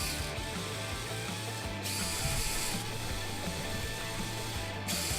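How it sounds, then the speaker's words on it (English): A Furitek ESC drives the gear train of an Axial SCX24 RC crawler, giving a steady, close mechanical whir with ratcheting gear chatter that runs continuously, with brief surges in speed and no talking. "I just want to hear the drive line."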